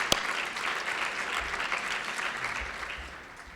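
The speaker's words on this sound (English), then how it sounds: "we can have another round of applause for everybody who supported this event" Audience clapping at the AccessCal Gala 2013 evening event, a brief, full burst of applause from a crowd that holds steady and then begins to taper off after a few seconds.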